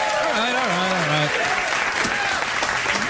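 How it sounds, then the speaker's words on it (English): Studio audience applause on a late-night talk show, a broad sustained clapping that swells and carries on while a voice talks over the start of it. "Don't applaud money so much, it's unseemly."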